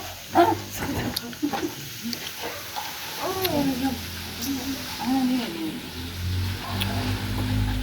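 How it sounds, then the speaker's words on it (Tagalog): Dogs bark and whine in short bursts nearby, mixed with a vehicle engine running and people talking. "Salubong ang mga aso."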